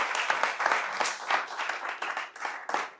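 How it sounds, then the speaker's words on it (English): Audience applause closes a talk on using Python to automate an astronomical observatory at a PyData meetup: a few seconds of steady, dense clapping from a room of people, with no one speaking over it. "Big applause"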